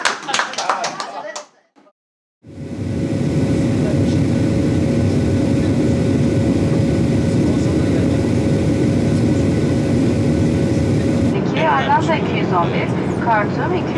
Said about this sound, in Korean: 터키로 향하는 비행기 안.